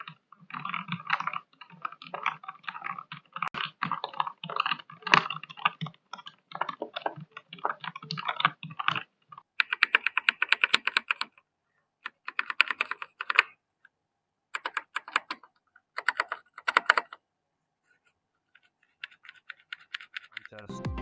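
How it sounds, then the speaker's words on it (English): Typing on a Ziyoulang K87 compact mechanical keyboard with red switches, rapid close clicky keystrokes in quick bursts separated by short pauses, fairly quiet overall. "Red switches sound test."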